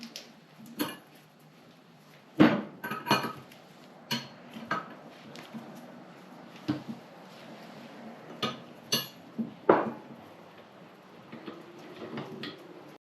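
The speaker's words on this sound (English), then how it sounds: "you're going to need a 22 millimeter wrench to remove the old one" A 22 mm wrench works loose a tight old unloader valve on a pressure washer, giving scattered metallic clinks and taps with short gaps in a quiet room, close by.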